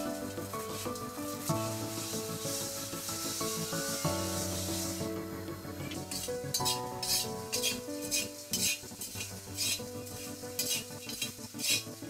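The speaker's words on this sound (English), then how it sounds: "Stir until crispy. This takes about 10 minutes." Spinach frying in a pan with pepper while being stirred until crispy, with scraping and sizzling heard beneath louder background music.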